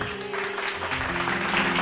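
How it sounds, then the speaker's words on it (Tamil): A church congregation applauds at a Bible study gathering, giving a dense, steady burst of clapping that fills the room briefly, with no talk over it. "கைத்தட்டுங்க ஒருத்தவருக்கு."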